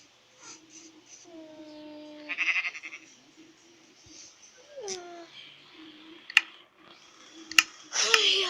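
A goat bleats a few times in short, wavering cries, mixed in among people's voices talking nearby indoors.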